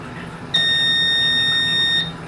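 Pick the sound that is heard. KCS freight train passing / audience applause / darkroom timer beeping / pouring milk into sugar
darkroom timer beeping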